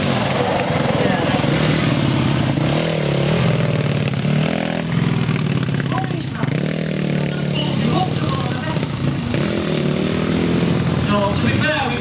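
Quad bike engine revving hard during a wheelie attempt at a stunt show in Birmingham, a loud continuous throaty roar with rising and falling revs, heard up close under crowd noise and talk.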